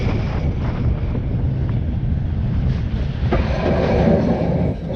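A roller coaster train on a new train set rumbles steadily along its track at Six Flags Over Georgia, with constant loud wind rushing past throughout.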